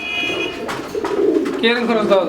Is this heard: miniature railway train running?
no